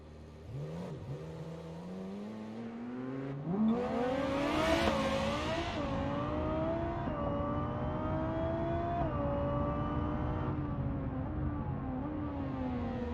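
The Civetta Scintilla sports car in BeamNG.drive accelerates hard, its engine note climbing in pitch through the gears with a brief whooshing surge, then holding a high sustained whine and steady drone.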